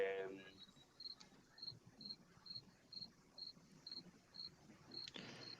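Crickets chirp in a steady, evenly spaced rhythm, each short trill sounding about every half second, faint and continuous over a quiet low background rumble.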